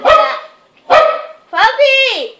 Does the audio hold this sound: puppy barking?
yes